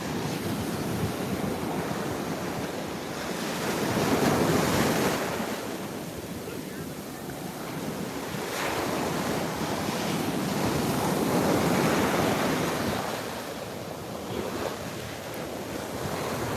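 Ocean surf at Juno Beach rolls in broad swells, waves building and receding every few seconds under constant gusty wind buffeting the microphone.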